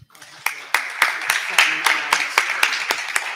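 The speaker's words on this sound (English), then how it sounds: "Let's give them a round of applause." Scattered hand claps from a small group at a women in STEM event in Atlanta, sparse and uneven at first, building into light, steady applause.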